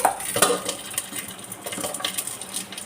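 A banana-leaf-wrapped fish parcel set into a pan of coconut oil and covered, with clattering cookware knocks and scrapes and a light sizzle in the background, up close and without talk.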